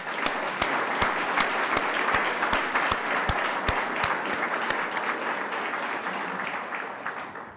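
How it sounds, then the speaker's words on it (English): Sustained applause from an audience at a university board of trustees meeting, with a broad wash of clapping and a few sharp, close claps standing out. It tapers slightly toward the end. "So can we please give a round of applause for President and Carrie Montgomery?"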